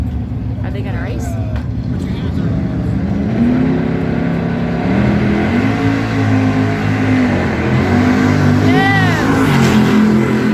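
Drag race cars accelerate hard on a Route 66 street drag strip in Kingman, Arizona, their loud engines roaring and shifting through rising pitch over the full stretch, with crowd voices talking over them.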